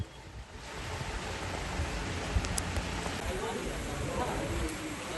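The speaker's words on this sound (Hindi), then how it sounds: "हरिद्वार की अगर बात करें तो यहाँ पर भी काफी बारिश हुई है और यहाँ पर बारिश के साथ ओले भी पड़े हैं" Heavy rain with hail falls in Haridwar as a dense, continuous roaring hiss. A few sharp knocks stand out from the steady downpour, which is loud and close throughout.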